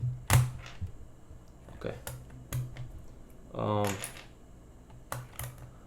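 Keycaps are pulled and swapped on a Wooting 60 HE keyboard, giving a series of sharp, close plastic clicks and taps with pauses between them, and a brief spoken word in the middle.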